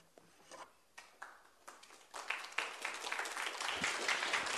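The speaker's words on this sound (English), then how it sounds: "Please hold your applause down" A city council meeting audience in West Covina applauds, starting as a few scattered claps and swelling into dense, sustained clapping that fills the room.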